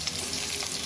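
Chopped onion goes into a hot frying pan for a Bangladeshi home-cooked bean curry, giving a steady, close sizzle and hiss of frying throughout with no voices.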